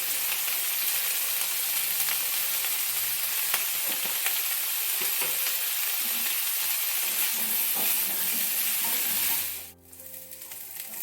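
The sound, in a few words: cauliflower frying in oil with salt and turmeric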